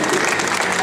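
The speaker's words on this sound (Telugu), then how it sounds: "క్లాప్స్ ఫ్రీగా కొట్టేసాడు పిల్లడు" Audience at a Radio City 91.1 FM super singer contest clapping in a brief, dense burst of applause, loud and close, with a voice speaking over it.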